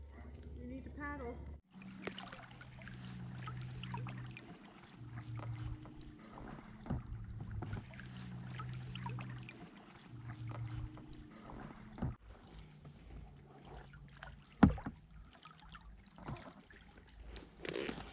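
Kayak paddle strokes on a southern Louisiana river beneath moss-draped trees, with soft water swishes and splashes, a low steady hum and a sharp knock near the end, while people talk throughout.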